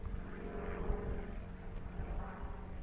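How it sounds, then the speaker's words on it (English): An airplane passes overhead during a coastal walk at Mylor in Cornwall, near Falmouth. It comes through as a faint, steady, distant drone with a broad rumble and no voices. "it's an airplane, folks. Can you see it up there?"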